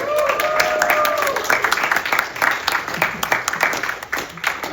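An audience at a fan convention panel applauds in a burst of clapping that thins out toward the end, with a few scattered whoops and some faint talk mixed in.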